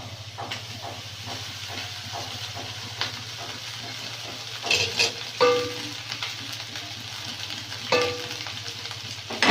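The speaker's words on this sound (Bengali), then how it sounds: "ভাতগুলো দিয়ে ভালো করে নেড়ে নেব" Rice is stirred into frying rice in a pan, a close hissing sizzle over a low steady hum, punctuated by repeated scraping strokes and a few louder clanks of the utensil.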